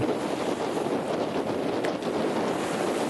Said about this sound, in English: the squalls have brought along a wind and we are actually sailing